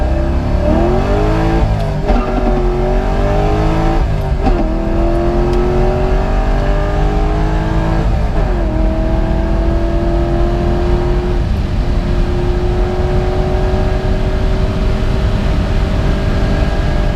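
A car on Federal 595 RS-PRO tires accelerates hard on the street, its engine loud and close, climbing in pitch through several gear changes before settling into a steady high drone.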